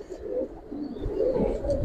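Giribaz pigeons coo softly in low, rolling, repeated calls close by, with a faint background murmur.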